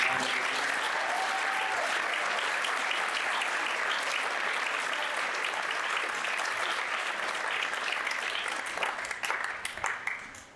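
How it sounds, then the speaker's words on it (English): A school auditorium crowd gives sustained, loud applause for a high school concert band at its final concert, dense clapping that thins toward the end. "Could you give a big round of applause for them?"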